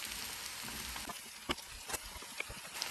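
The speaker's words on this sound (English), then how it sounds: "I'll just saute this for about 5 minutes before I add in all the spices." A pan of food sizzles steadily while sautéing for Middle Eastern musakhan chicken. It is a faint, even frying hiss with a few soft clinks and stirring taps, and no voices.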